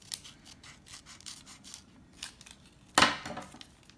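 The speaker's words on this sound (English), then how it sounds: "I'm going to have to cut it with scissors." Scissors cut open a 1990 Upper Deck baseball card pack with a series of soft, rhythmic snipping and rubbing strokes, followed by one louder sharp crinkling snip near the end, close and fairly quiet.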